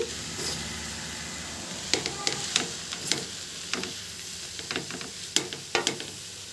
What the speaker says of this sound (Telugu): ఇప్పుడు గరిటితో ఇప్పుడు బాగా కలుపుకోండి